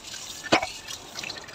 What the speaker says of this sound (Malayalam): അതൊന്ന് കഴുകിയിട്ട് വീണ്ടും വെള്ളത്തിലോട്ടിട്ട് ഒലച്ച് കഴുകിയെടുക്കാമെന്ന് വെച്ച്